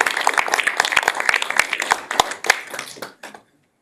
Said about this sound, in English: Alan, and another round of applause